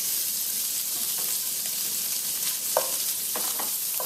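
Salted cod sizzles steadily in olive oil in a pan over low heat, a soft even frying hiss with faint stirring clicks and no voices.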